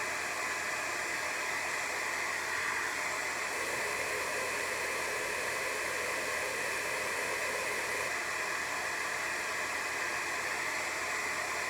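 A hair dryer runs steadily and loudly without pause, blowing hot air to dry leftover acrylic paint petals on a card. It is a constant airy whoosh with no voices.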